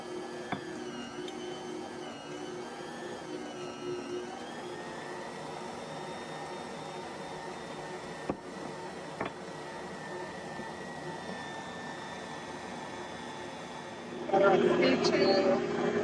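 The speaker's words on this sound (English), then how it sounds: "So with the mixer on." A stand mixer runs steadily on speed 2, kneading freshly milled sourdough with a continuous motor whir and faint rhythmic thumping of dough, growing louder and busier near the end.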